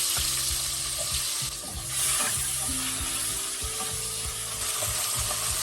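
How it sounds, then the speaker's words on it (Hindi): Potato slices marinated with salt and turmeric shallow-frying in hot mustard oil, a steady close sizzle and crackle with occasional stirring, no voices. "आलू शैलो फ्राई करना है।"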